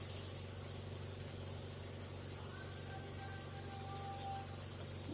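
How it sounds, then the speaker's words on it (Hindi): Aloo chicken samosas frying gently in oil on low heat produce a soft, steady bubbling crackle with a low background hum, faint and unchanging throughout. "इसको अब हल्का हल्का हल्की आँच पे इसको फ्राई करेंगे।"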